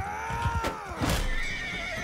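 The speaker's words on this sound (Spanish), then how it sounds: "A ver si puedo matar los caballos de Ragnar y de la otra perraca" A horse neighs loudly in the battle game Mount and Blade 2 Bannerlord, with a long whinny over clattering hooves and constant combat noise.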